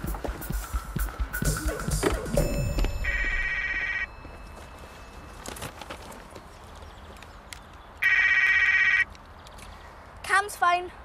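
A telephone rings indoors in two separate bursts of electronic trilling, with a long pause between them, over background room noise and people talking nearby.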